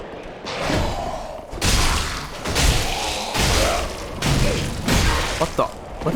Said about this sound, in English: What the hell was that explosion?